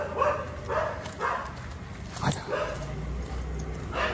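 A golden retriever outdoors in rain, giving several short barks and yips at irregular intervals, near and moderately loud, with some background noise and a faint voice.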